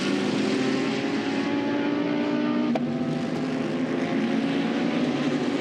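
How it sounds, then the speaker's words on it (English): Race car engines rumble around the Nürburgring circuit during an ADAC GT Masters race, a continuous loud roar and drone from passing cars with no voices. "So the rumble of the engines around the Nürburgring."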